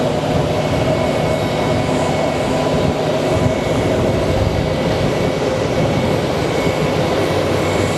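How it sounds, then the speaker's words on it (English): Southwest Airlines airliner arriving at Phoenix Sky Harbor Airport, a steady, loud broadband jet roar that holds evenly for the whole stretch with no talk over it. "next up on our arrival is going to be Southwest 3094 coming in from Chicago Midway"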